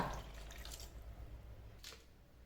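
About half a tumbler of water is poured into a pot of spiced mutton for biryani, a faint, short splash followed by soft trickling and a single drip-like plop.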